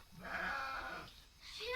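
A single drawn-out lamb bleat, fairly close, followed by a higher bleat starting near the end; sheep calls with no talking.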